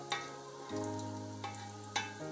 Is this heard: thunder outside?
no